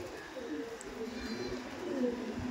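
A Punjabi cargo pigeon gives soft, low coos, fairly faint against a quiet background.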